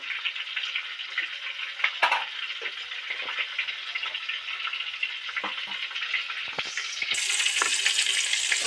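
Oil with ghee and butter sizzling in a pan, a continuous close hiss with occasional pops and scrapes, growing brighter and louder near the end.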